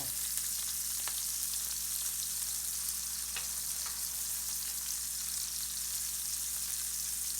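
Potato gnocchi fry in spitting hot oil with a steady, dense sizzle and scattered sharp pops, continuous and close throughout with no talking.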